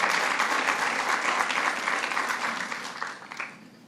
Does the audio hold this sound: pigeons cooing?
no